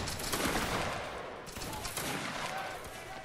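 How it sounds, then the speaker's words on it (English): Ragged musket volley from a line of soldiers in the Roblox Waterloo game, a dense crackle of overlapping shots with a second wave of fire, under faint distant voices. "Fire."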